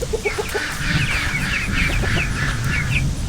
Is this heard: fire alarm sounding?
no